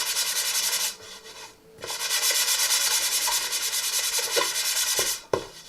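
Wood being hand sanded with fine 120-grit sandpaper while a honey bee tiered tray decoration is made: a steady, close scratching rub in long strokes, with brief pauses near the middle and the end.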